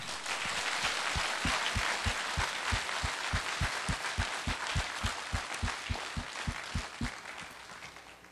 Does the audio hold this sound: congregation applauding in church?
yes